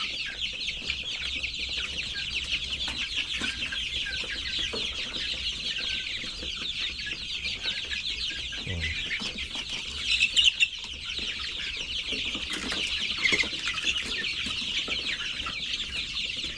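Chicks and chickens clucking and peeping on a Philippine farm that also raises lechon pigs, a steady, dense chorus of small bird calls with no talking.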